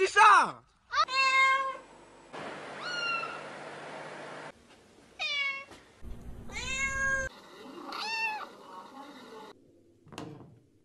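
A string of drawn-out cat meows in varied pitches, separated by short silences and mixed with other brief sounds.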